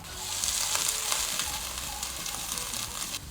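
Small onions fry in peanut oil in a pan, giving a steady, close, fairly loud sizzle with faint crackles throughout and no voices.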